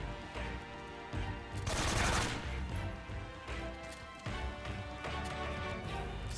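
Gunfire from an AK rifle in the Metal Gear Solid 3 video game, repeated bursts of shots with a louder dense burst early on, heard over continuous in-game ambience and no talking.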